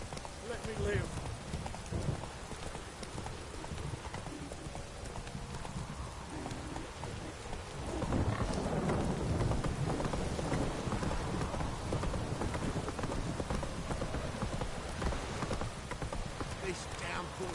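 Steady rain pours down in a Witcher 3 downpour, a soft continuous hiss that swells louder midway, with distant thunder rumbling and horse hooves clopping.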